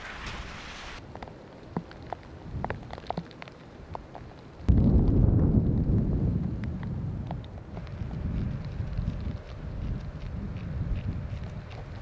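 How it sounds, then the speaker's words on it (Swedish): Stormy outdoor weather with wind gusts and heavy pouring rain: a steady broadband roar that surges loudly about a third of the way in and then continues as a constant rushing wash with no one speaking. "Det har spöregnat här hela dagen och blåst."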